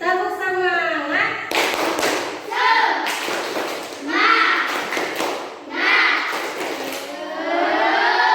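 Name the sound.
students doing a rhythmic spirit clap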